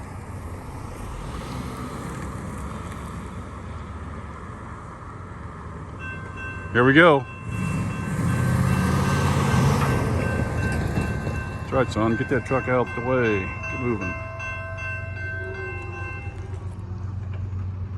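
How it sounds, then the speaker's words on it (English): A westbound train passes a railroad crossing with repeated loud horn blasts and a steady rumble under wind noise, while someone talks over it. "We got a westbound train coming this time."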